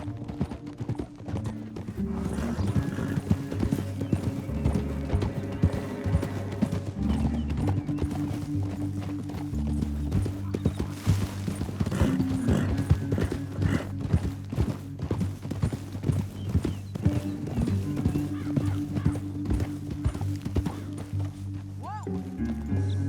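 Horse hooves clip-clop steadily across terrain in Red Dead Redemption 2, a dense continuous galloping rhythm with an occasional whinny over a low sustained musical score.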